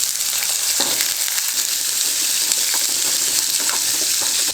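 Urad dal, garlic, dried chillies and shallots fry in hot oil with a loud, dense, continuous crackling sizzle close by, steady throughout, with no speech.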